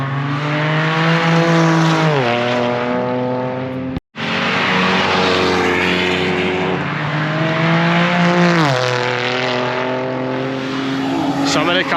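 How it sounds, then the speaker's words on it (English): Supercars such as McLarens, Ariel Atoms and Porsches at Knockhill circuit roar loudly nearby, engines rising and falling through gear changes across two passes, with a sharp break midway. "Some of the cars are super quiet, but obviously they'll pass regulations at other tracks, and some of them are mega loud."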